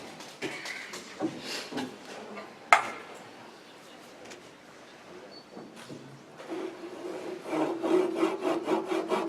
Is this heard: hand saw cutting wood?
yes